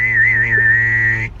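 A woman tries to whistle and hum at once, a steady wavering whistle over a low sustained hummed tone, close and clear, cutting off abruptly after about a second.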